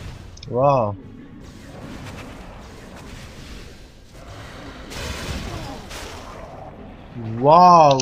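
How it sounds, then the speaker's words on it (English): An explosion goes off in the action role-playing game Torchlight 2, a booming burst with a sharp attack that stands out over game background sound and is set between short bursts of speech. "the explosion kills me"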